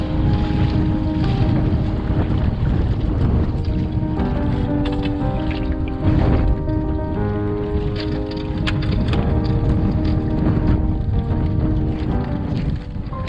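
Strong wind roars across a homemade Hobby Kat catamaran on a beam reach in an east wind, loud buffeting gusts with hull and water noise, constant throughout.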